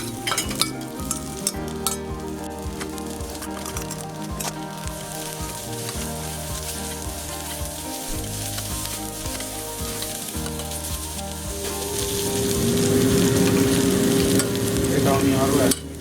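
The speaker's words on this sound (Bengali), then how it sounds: "এটা আমি 1 মিনিটের মতন ভাজবো।" Onion with red and yellow capsicum frying in a pan for chilli paneer gives a steady close sizzle with clinking stirring strokes, growing louder and more crackling near the end.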